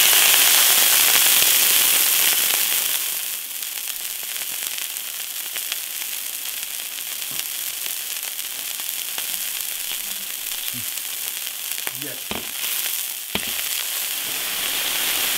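Sizzling in a wok after water hits hot oil with pork belly, Xinjiang green peppers, onion and garlic, a loud steady crackle at first that settles into a softer, continuous fry with a few clanks.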